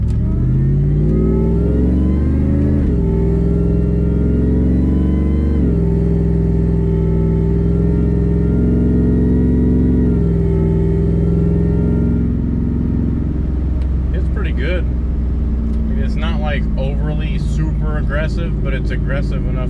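A Ford Lightning pickup with a race valve body accelerates through first, second and third gears. The engine drones loudly with rising pitch and a drop at each shift, and someone talks over the later part.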